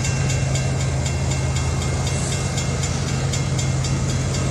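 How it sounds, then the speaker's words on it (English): A steady, loud rumble of a train rolls on continuously with a low droning tone and rhythmic clatter, constant throughout with no voices. "I'm gonna show you the train, how close he is now."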